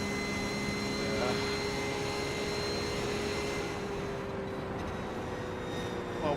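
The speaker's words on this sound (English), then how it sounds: "My engine's quite loud, like. I need to tune that down." A loud race car engine in the iRacing simulator on the Nürburgring endurance layout drones continuously and evenly at high volume, a dense unbroken roar filling the whole stretch with no pauses.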